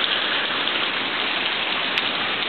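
Steady, dense rain pours down during a storm, a constant close hiss of drops hitting surfaces and puddles with no voices, running evenly throughout.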